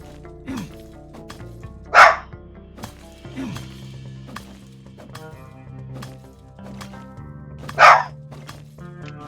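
A dog in the video game My Time at Sandrock barks twice, sharp loud single barks several seconds apart, over quiet soft game background sounds and light clinks.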